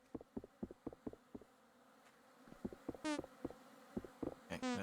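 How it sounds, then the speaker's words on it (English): Bees in a multiplayer survival video game give quick buzzing bursts amid a run of soft, rhythmic clicking taps, the buzzing growing denser and louder toward the end, with no talking. "It's the language of the bees."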